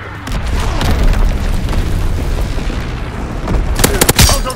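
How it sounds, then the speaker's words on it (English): Mortar rounds burst in Call of Duty WWII in a loud, continuous barrage of booms and rumbling, with sharper cracks near the end. "Sending mortar rounds."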